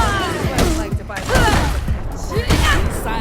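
Rifle fire in the Dustborn video game bursts in rapid, loud cracks and thuds among explosive impacts, with people talking over the chaotic firefight.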